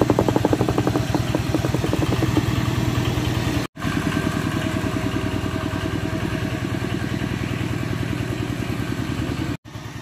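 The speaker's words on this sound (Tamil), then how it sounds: "இதில் பாருங்க, முதுரை குத்தி வந்து எவ்வாறு அந்த எண்ணெய் நசிக்குது, அந்த நசிச்சு எண்ணெயை புளிஞ்சு எடுக்குதுன்றது." A traditional wooden chekku oil press in Navali, Jaffna, crushes sesame seeds into oil with a loud, steady, rhythmic mechanical chugging that runs the whole time, broken by two brief dropouts. No one talks.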